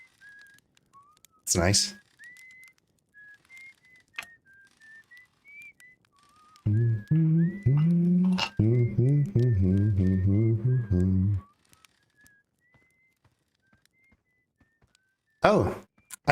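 A tuneful whistled melody drifts through Dark Bramble in the Outer Wilds video game, a thin, sustained line that wavers up and down, with a short spoken phrase and a few knocks and thumps breaking in along the way.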